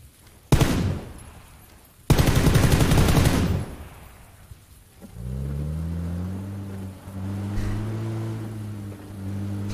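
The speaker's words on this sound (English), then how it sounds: "Why don't we shoot the vehicle, though?" Gunfire in the video game PUBG aimed at a vehicle: a short loud burst, then a longer sustained volley of rapid shots, followed by the hum of a running vehicle engine.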